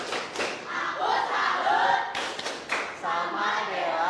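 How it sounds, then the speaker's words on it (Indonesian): Classroom students doing a rhythmic 'tepuk salut' clap for a classmate, group claps and thumps mixed with loud chanted shouts from the children, lively and close. "kita berikan tepuk salut untuk Dela"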